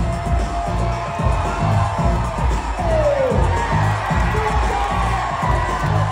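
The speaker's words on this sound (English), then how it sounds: "When this grandma came out to join the cruise ship dance-off, everyone cheered with excitement" Cruise ship crowd cheering and whooping as a grandma joins a dance-off, a loud, continuous roar of many voices over a steady, thumping dance beat.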